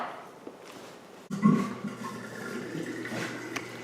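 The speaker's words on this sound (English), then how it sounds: "That sound was the dishwasher." A dishwasher starts up suddenly with a rush of sloshing water, then keeps up a continuous churning wash with faint knocks. There is no talking.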